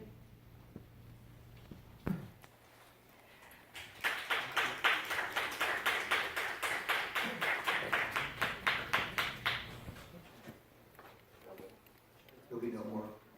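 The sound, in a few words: audience applause at a public meeting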